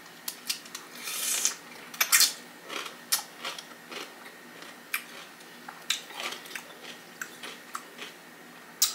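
Crisp, loud crunching bites and chewing of a Jimmy John's Little John sub sandwich with dill pickles, close to the mic, in irregular bursts with no talking.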